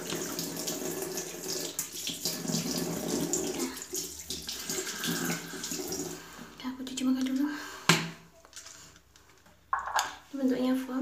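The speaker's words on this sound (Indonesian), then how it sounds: "Bentar, cuci muka dulu." Running tap water splashes continuously at close range during a face wash with a foam facial cleanser, with a voice talking over it and brief pauses where the flow drops near the end.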